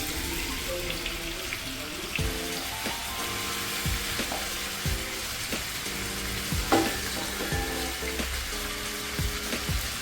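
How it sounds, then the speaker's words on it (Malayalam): Steady sizzling of chicken frying in hot oil, with occasional clinks and scrapes of a utensil against the pan. "നമുക്ക് ഈ ചിക്കൻ ഒന്ന് ഫ്രൈ ചെയ്തെടുക്കാം."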